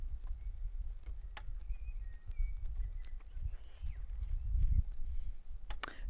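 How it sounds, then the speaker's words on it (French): Crickets chirp in a continuous high, even trill outdoors, accompanied by intermittent wind rumble and a few soft clicks. "Je vous laisse écouter le chant des grillons"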